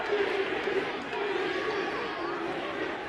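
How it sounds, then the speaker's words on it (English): A wrestling arena crowd at the Impact Zone roars and chants during a Diamond Dallas Page TNA match, a steady, fairly loud wall of voices with no clear gaps. "Listen to this crowd."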